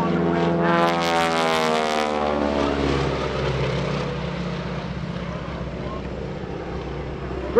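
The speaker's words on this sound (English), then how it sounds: "Greg Shelton rolling the 450 Stearman around there." A 450-horsepower Stearman biplane drones loudly through an airshow aerobatic roll, its engine note shifting as it passes close, with steady wind-blown roar throughout.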